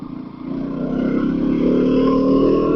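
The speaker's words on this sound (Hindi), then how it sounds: "आप भगा देते हैं बाइक को" A motorcycle ridden along roads in Noida, its engine droning steadily close by, growing louder and more insistent after the first half-second as the bike picks up speed.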